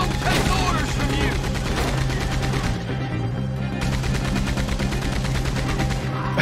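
Sustained rapid gunfire from a mounted gun in Red Dead Redemption 2, loud and dense with continuous bursts over the full stretch, with voices shouting over the shooting.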